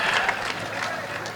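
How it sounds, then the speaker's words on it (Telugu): An audience at a Telugu song gathering claps in a brief burst of crowd applause, dense and fairly loud. "గట్టిగా చప్పట్లు కొట్టండి"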